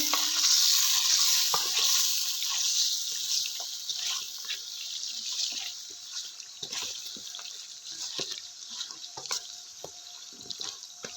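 Mutton kadhai masala with turmeric, black pepper, carwom and garam masala fries in a pan: a hissing sizzle under repeated soft scrapes and clinks of stirring, fading slightly over time.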